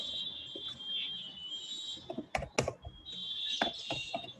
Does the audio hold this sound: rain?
no